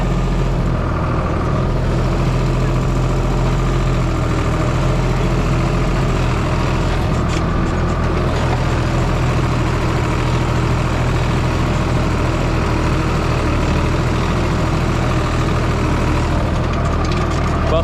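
A loud, heavy tractor engine runs continuously close by in a stony, sloping vineyard, a thick low rumble with a steady drone that never lets up.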